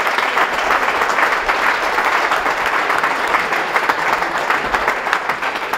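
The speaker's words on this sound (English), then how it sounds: "Round of applause." A crowd at a football club's player of the year awards gives sustained, even applause, a thick wash of many hands clapping with no talk over it.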